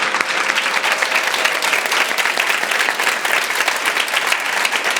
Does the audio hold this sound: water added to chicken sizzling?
no